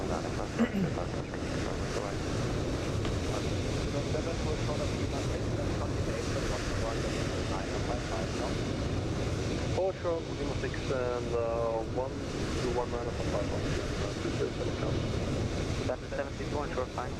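Airliners taxi at Frankfurt in Microsoft Flight Simulator 2020, a steady broad engine rumble and whine that fills the whole stretch, with a faint rising tonal sweep partway through.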